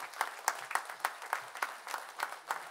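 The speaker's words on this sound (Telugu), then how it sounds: "ఆపకుండా 5 నిమిషాలు చప్పట్లు కొట్టాలని చెప్పి కోరుతున్నాను" An audience at a book launch claps in a steady, rhythmic beat, the even claps repeating at a moderate distance with no talk over them.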